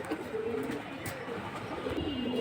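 Pigeons coo in overlapping, low throaty phrases at a busy pigeon market, with faint voices and crowd noise behind them.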